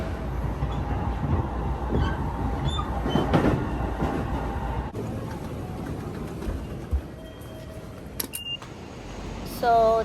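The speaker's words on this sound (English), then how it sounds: "but also because the train just left" A train pulls out of a station in daytime, its broad rumble loud at first and then fading through the second half as it moves away, with a few faint clicks and squeaks near the end.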